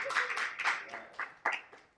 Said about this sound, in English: Let us give Gus a round of applause.